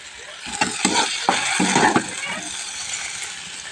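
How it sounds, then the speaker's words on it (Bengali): A cooked curry being scooped out of a wok, with a few sharp scraping and clinking strokes of a spoon against metal over faint sizzling, close by, then quieter. "এবারে নামিয়ে নেবো কড়াই থেকে তরকারিটা"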